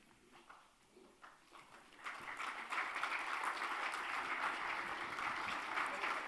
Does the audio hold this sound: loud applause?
yes